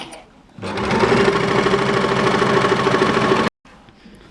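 A sewing machine stitches elastic onto fabric for children's underwear, running in one loud, fast, even burst of about three seconds before stopping abruptly.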